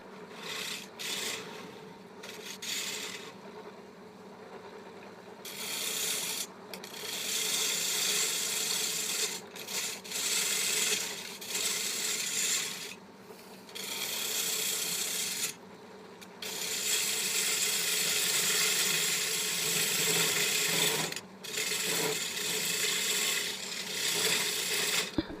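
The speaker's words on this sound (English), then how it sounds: "Notice how I'm using the angle of the bevel on the chisel to pare away." A chisel pares wood on a lathe during faceplate turning of a wine table top, giving close, continuous rasping strokes in repeated bursts separated by short pauses, with no talk.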